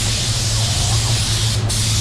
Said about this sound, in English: So I'm spraying towards the repair, trying to contain it.